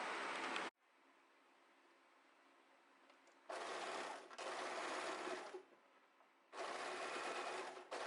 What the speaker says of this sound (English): So now we're going to start overlocking from here all the way till the end.